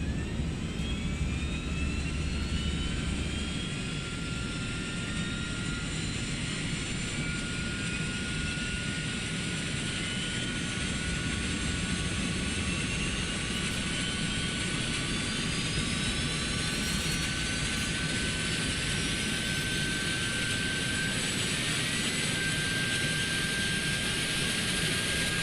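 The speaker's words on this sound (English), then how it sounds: "Let you guys enjoy a nice APU start here." Airbus A300-600 auxiliary power unit starting in Microsoft Flight Simulator 2024, a steady loud turbine roar with rising whine tones as it spools up, no talk.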